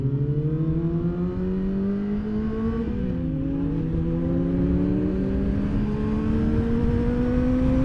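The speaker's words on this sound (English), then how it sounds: "God, his bike is so fast." A fast motorbike engine revs hard and climbs through its gears, the whine sweeping steadily upward and staying loud and close throughout, with a slight dip partway through before rising again.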